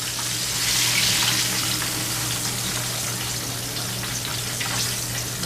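Pork chops fry in grease in a pan, a continuous close hiss and crackle of sizzling fat over a low steady hum.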